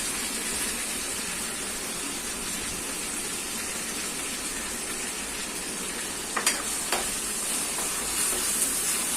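Curry leaves, ginger-garlic paste, turmeric and salt sauté in a hot pan for a potato wada filling, giving a steady, close, broadband sizzle and hiss throughout, with a couple of brief clinks of a spoon near the end.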